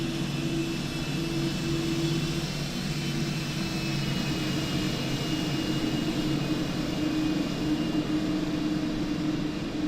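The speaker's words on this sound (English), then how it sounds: "So looking at Sydney, we have 747s taxiing out to runway" Boeing 747 jets taxiing at Sydney airport in Microsoft Flight Simulator, a steady droning whine of jet engines with a constant hum, continuous and even throughout with no speech.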